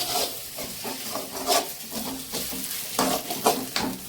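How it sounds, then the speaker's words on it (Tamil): Mint leaves sauté in oil over a low flame for green peas mint rice, a quiet sizzle broken by repeated scraping strokes of a spoon stirring in the pan. "இனிமேதான் இப்பதான் சின்ன தீ வச்சுட்டு அந்த சின்ன தீயிலேயே நல்லா வதக்கணும்ப்பா"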